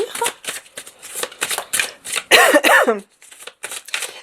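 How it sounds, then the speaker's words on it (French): A close, loud cough bursts out in the middle among scattered rustling and shuffling sounds, followed by more brief handling noises. "Pardon pour la toux"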